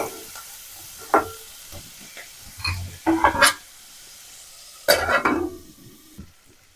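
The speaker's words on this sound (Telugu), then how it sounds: "టమాటో, కరివేపాకు వేసి బాగా ఫ్రై చేయాలి ఆయిల్లో." Tomato, curry leaves, carrot and other vegetables fry in oil, with a low sizzle broken by several loud bursts of stirring and scraping in the pan. No voices are heard.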